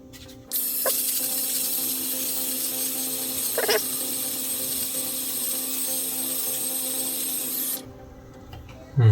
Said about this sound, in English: We'll do the dry shaving.